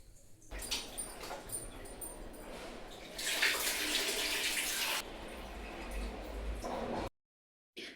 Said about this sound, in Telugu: మటన్లో మంచినీళ్ళు పట్టండి.